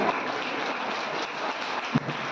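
A church congregation at a special meeting claps loudly together, a dense wash of many hands sounding like steady rain, continuous and moderately distant, with one sharper thump near the end.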